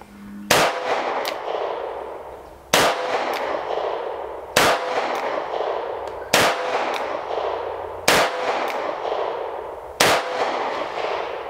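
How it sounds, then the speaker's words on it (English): A Charter Arms Pathfinder .22 magnum revolver fires six single-action shots at a target 7 yards away. Each sharp, loud crack rings out alone, with roughly two seconds between shots. "let's do 6 shots. We'll do them single action."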